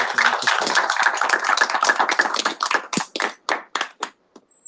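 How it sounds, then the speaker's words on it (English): Audience applause at a student government meeting, a dense burst of many hands clapping that thins into a few scattered, separate claps before stopping. "Everybody, please give them a big round of applause."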